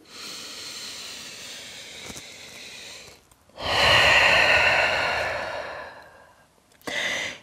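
Slow, deep breaths drawn and released close by: a long airy exhale, a pause, a fuller louder breath, then another starting.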